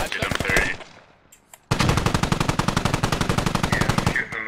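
Rapid bursts of machine gun fire from the video game Squad, a short loud volley, a brief pause, then a long sustained stream of fast, evenly spaced shots close by.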